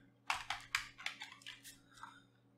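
Keys on a computer keyboard are struck in a quick burst of about a dozen close, crisp clicks that thin out toward the end, over a low background hum.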